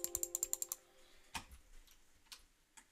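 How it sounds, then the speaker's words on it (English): Mouse and keyboard clicks during a Roblox game: a quick, sharp burst of about seven close clicks, then a few scattered clicks and taps against quiet background. "Did you guys hear my clicking?"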